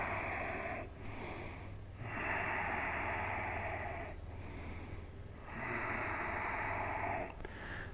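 Slow, deep breaths during a yoga stretch in a HIIT yoga class, long airy inhales and exhales alternating about every two seconds, close to the microphone, with no talking.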